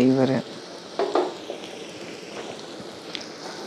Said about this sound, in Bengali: এইবারে আদা বাটা, রসুন বাটাটাকে ভালো করে ভেজে নেব সাইডে